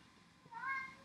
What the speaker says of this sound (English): So the cat wants to keep coming in and out.